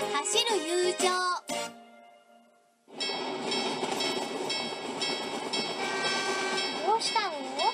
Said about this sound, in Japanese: この時間帯は日が暮れるまで電車は途切れませんです